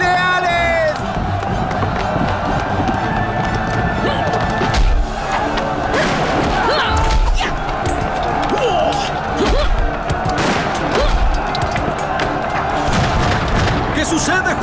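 A cartoon infantry charge roars with crowd shouting, booming impacts and crashes, scattered gunfire-like bursts piling up over about fifteen seconds, loud and dense with repeated heavy hits.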